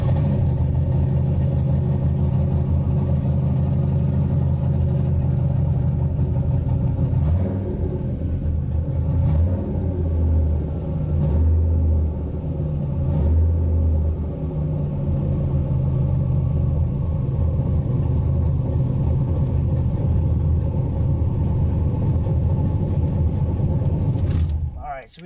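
A car engine idles steadily with a deep, continuous rumble throughout, loud and close, while a person talks over it; near the end the sound drops away abruptly.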